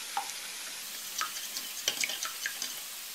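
Tomato concentrate is stirred into tomato juice, giving soft wet sloshing and a few light clinks of a utensil against the vessel, close and fairly quiet, with no voices.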